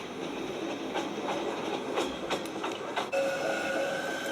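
A train rumbles through Basel train station in Switzerland, steady clickety-clack of wheels on rails with rhythmic thumps and a thin metallic squeal near the end, heard fairly close.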